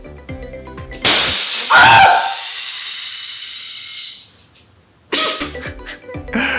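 A homemade Spider-Man web shooter's valve connection bursts open, releasing a sudden loud blast of compressed air that hisses steadily for about three seconds, fades away, then clattering handling noises follow.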